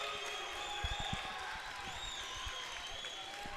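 Crowd noise at a university women's volleyball match between Trinity International and St. Francis: a steady wash of cheering and applause with scattered claps, sustained throughout without a clear break.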